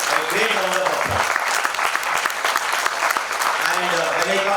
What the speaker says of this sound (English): this is the time which we should give a great round of applause